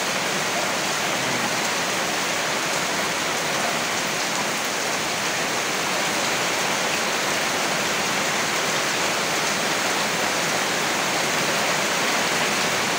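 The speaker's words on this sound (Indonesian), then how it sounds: "Udane pol deres." Heavy night rain pours down in Pati, a dense, steady roar of water hitting surfaces that stays loud and unbroken throughout, with no voices.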